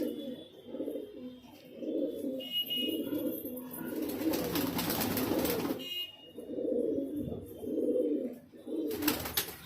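Pigeons coo in low, repeated throaty phrases close by in a loft, with a few bursts of rustling noise between the calls.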